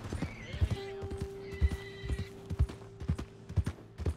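Hooves clip-clop in a slow, even rhythm in Red Dead Redemption 2 video game, with a horse whinnying briefly and a held musical tone in the background.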